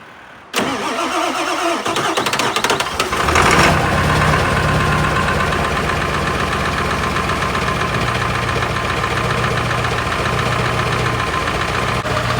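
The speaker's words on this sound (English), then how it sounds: "I'm actually very impressed at how easy that cranked up." A Ford 7.3 Powerstroke diesel engine with 700,000 miles cranks for a few seconds, catches and settles into a loud, steady rattling idle that runs on close by without any talk.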